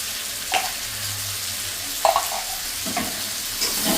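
Fried mushrooms stirred in a pan with salt and turmeric hiss with a constant sizzle, broken by several sharp spatula scrapes and clanks at uneven intervals.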